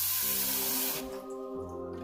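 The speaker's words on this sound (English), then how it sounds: "To start the white chocolate eyeballs, we are going to fill a pan full of water." Water gushes from a tap with a steady hissing spray, then softens and changes pitch as the pan fills, close and fairly loud.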